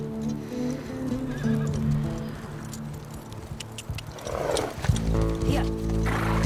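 Horses in The Last of Us Part II whinny and snort as riders mount up and head out, hooves clopping over a steady game soundtrack, with a louder burst of movement and neighing toward the end.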